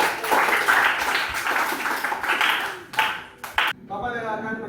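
A classroom of students claps together to applaud a classmate who won first place, a dense burst of hand claps that thins out toward the end, with speech mixed in.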